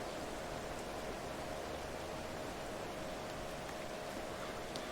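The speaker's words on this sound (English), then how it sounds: "it sounds like you're like in a car while it's raining, and you still hear like the thunder and stuff too" Steady rain drums on the roof of a tractor cab in Farming Simulator 22, a constant dense hiss heard from inside, even and moderately loud with no other sounds.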